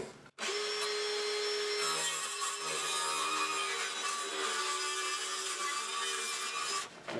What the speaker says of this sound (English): I'm going to get on the jigsaw there now, and we'll get that cut out